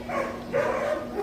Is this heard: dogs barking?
yes